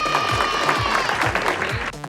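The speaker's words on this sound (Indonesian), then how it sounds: "Mana dong tepuk tangannya?" Children clapping in a lively group applause on a children's handmade-crafts show, a steady dense patter of claps with some crowd voices mixed in, held for about two seconds.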